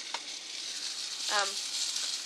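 Flour-coated steak frying in olive oil in a skillet set to 350, giving a soft, steady sizzle with a brief louder hiss partway through, near and without talk.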